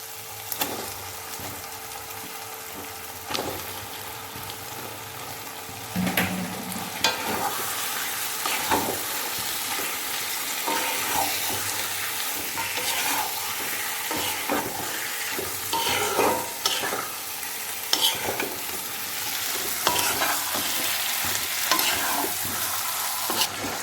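Chicken pieces frying and being stirred in spice paste for a restaurant-style chicken curry with potatoes, a continuous loud sizzle broken by repeated scraping strokes of the spoon against the pan, with no talking.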